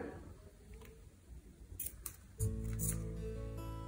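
Scissors snip through crochet yarn up close, giving a couple of crisp metallic cuts, followed by a steady low hum in the background.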